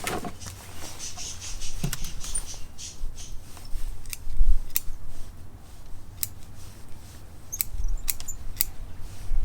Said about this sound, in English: let's trim some roots off